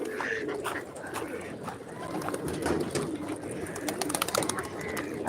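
Pigeons coo repeatedly near a water bottle set out for them, soft throaty calls recurring over background chatter and noise, fairly close.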